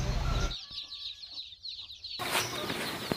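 Many week-old native chicks cheep together in a constant high-pitched chorus at a poultry farm, close by, with a brief dip before the peeping swells again.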